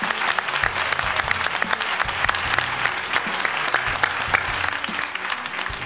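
A studio audience at an X-Factor Armenia show applauds a contestant with loud, dense clapping that runs steadily throughout with no voices over it.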